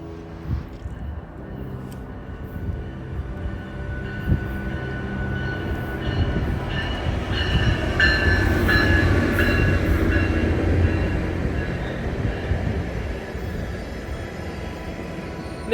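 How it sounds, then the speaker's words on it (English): A 12-car GO commuter train led by an MP40 locomotive with a cab car at the rear passes at Burlington, building from a rumble to loud rolling wheels with high metallic squeals in the middle, then easing off. "It's just your typical average GO train. MP40 in the lead and you got a CEM on the back."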